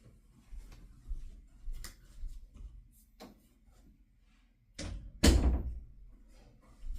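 A door in a home is pushed shut: two solid thuds land close together near the middle of an otherwise quiet room, with nobody speaking.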